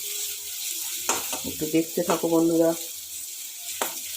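Eggs fry in a pan for egg curry with a soft, constant sizzle under a voice speaking Bengali, plus a couple of sharp clacks of a spatula or pan.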